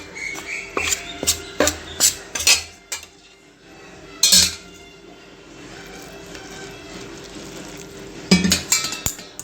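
A metal ladle scrapes and clinks against a pot while hot rice flour dough for idiyappam is stirred, sharp irregular knocks in bursts with quiet gaps between.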